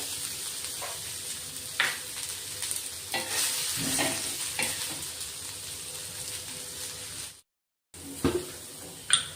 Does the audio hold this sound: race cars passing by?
no